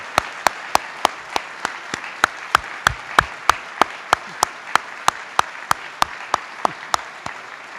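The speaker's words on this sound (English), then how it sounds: "Please, let's give a round of applause" Rhythmic applause from a lecture audience, a loud, steady series of sharp, evenly spaced claps about three per second, like synchronized clapping, over a softer bed of scattered clapping.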